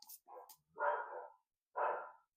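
Dogs barking downstairs in a few short, muffled bursts, then a pause, then one more bark, sounding somewhat distant.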